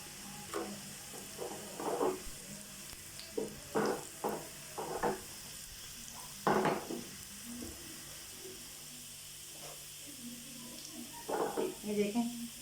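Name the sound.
chilies frying in oil for lentil tempering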